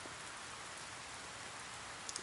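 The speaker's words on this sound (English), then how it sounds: "The rain won't let up." Rain falls steadily in 428: Shibuya Scramble, a soft, even hiss of drops across a surface, faint and unbroken, with a few tiny taps near the end and no talking.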